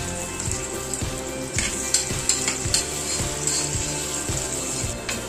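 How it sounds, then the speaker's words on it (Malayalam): Sliced onions frying in ghee and coconut oil for a cooker chicken biriyani, a steady sizzle with light scraping, a soft rhythmic musical beat underneath, no talk. "അതിലേക്ക് നമുക്ക് ഒരു മീഡിയം സൈസിൽ ചെറുതായിട്ട് നീളത്തിൽ കട്ട് ചെയ്ത സവാള എന്നിട്ട് ചേർത്ത് കൊടുത്ത്"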